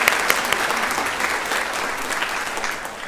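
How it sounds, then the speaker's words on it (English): An audience at a girls' school scholars assembly claps in a steady, dense round of applause for the full length, without any talking. "Should we give her a round of applause even though she's not here?"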